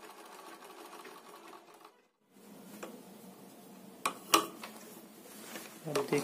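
Three-in-one sewing machine stitching fabric, a steady close mechanical whir broken by a short pause, then resuming with a few sharper clicks and knocks.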